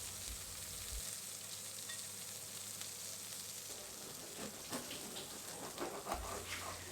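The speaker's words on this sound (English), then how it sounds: "It takes about 2-3 minutes for the köftes to cook." Köfte meatballs fry in a pan for a Turkish kofte dish from Bursa, a soft, continuous sizzle and crackle heard close but quiet, alone with no talking.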